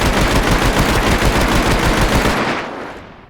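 Rapid automatic gunfire from a gun in the Minecraft Scorched Guns 2 mod, with a dense, steady stream of loud shots that keeps going for nearly three seconds and then tails off into a short echo.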